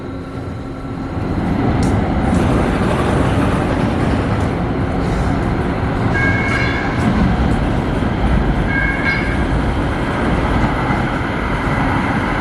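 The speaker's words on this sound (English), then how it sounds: "Welcome aboard the Metro E line." Los Angeles Metro E Line train heard from inside the car: a steady, loud rumble of wheels and motion, with two short two-tone electronic chimes partway through and no talk.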